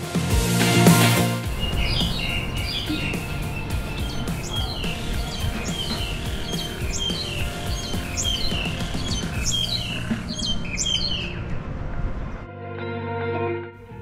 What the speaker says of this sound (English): It was so nice to hear the birds chirping as I walked through the town.